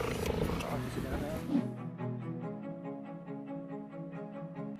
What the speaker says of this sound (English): This person helps cheetahs avoid extinction, and the big cat shows how happy it is to see him.